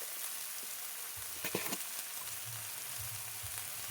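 Small cleaned pond shrimp fry in oil with a pinch of turmeric, giving a soft steady sizzle with a few louder crackles and stirring clatters, faint and close.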